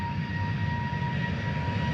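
An EasyJet airliner departs from Manchester Airport, its jet engines giving a steady, moderately distant roar with a thin whine on top. No voices are heard.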